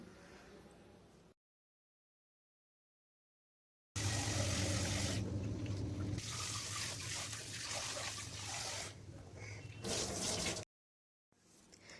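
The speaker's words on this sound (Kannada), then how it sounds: "ತೊಗರಿ ಬೇಳೆನ ತೊಗೊಂಡು ನಾನು ಕುಕ್ಕರಿಗೆ ಹಾಕಿ ನೀಟಾಗಿ ಒಂದು 3 ಸಲ ವಾಶ್ ಮಾಡ್ಕೊಳ್ತಾ ಇದ್ದೀನಿ." Toor dal is washed with water inside a pressure cooker, giving a close, continuous swishing and sloshing of lentils and water that runs for several seconds between abrupt silent gaps.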